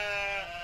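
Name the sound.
goat bleating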